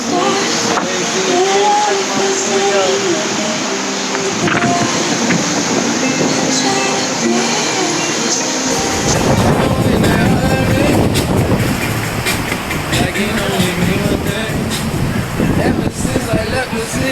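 Cruise ship Symphony of the Seas under way at sea, heard from the back of the ship as a loud, steady rush of wind and wake with engine rumble, lasting throughout.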